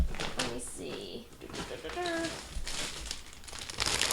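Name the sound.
rustling of yarn skeins being handled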